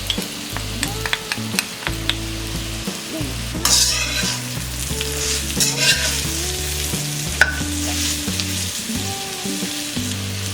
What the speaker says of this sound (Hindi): परवल क्रिस्पी फ्राई हो गया